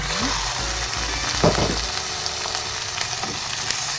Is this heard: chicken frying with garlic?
yes